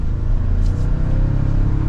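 A 2024 Toyota Tacoma TRD Off Road 4x4 pulls away in normal mode, its engine giving a steady, loud, low rumble that holds evenly from start to finish with no talk over it.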